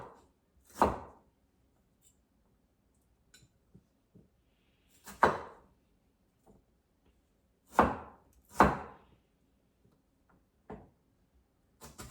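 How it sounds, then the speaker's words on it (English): A knife chops potatoes into cubes on a board, giving about five sharp, isolated thuds spaced irregularly, with faint small clicks in the quiet between. "try to cut those in cubes"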